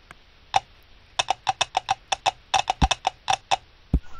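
A cartoon horse in the video game Clop lands a rapid string of sharp, hollow hoof clops, some spaced and some in quick bursts, loud and close with no talking.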